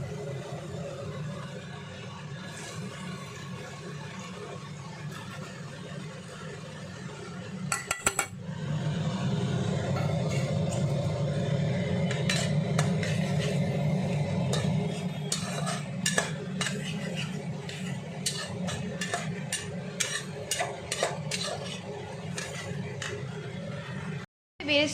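Onions added to hot oil in a pan for egg biryani, with stirring, utensil scrapes and clinks over a steady low frying hiss, near and moderately loud; a voice talks at times.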